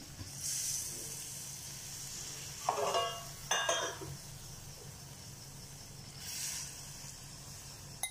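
Water is poured into a pan of simmering UP-style green pea curry (nimona) with potatoes, giving a soft, steady hiss and sizzle with two brief louder splashing bursts near the middle. No voices.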